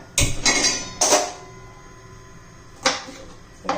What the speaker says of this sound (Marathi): आता तवा गरम करण्यासाठी ठेवल्या